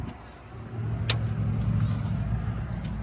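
Steady road traffic rumbles outside a double-wide mobile home, a low continuous drone of passing vehicles with a brief sharp click partway through.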